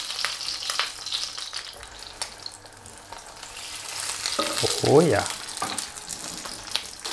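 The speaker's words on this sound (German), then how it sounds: "Und die lasse ich jetzt nochmal schön anbraten." A goose leg sizzles and crackles as its fat fries in a pan, with occasional stirring scrapes, and a voice briefly speaks over it.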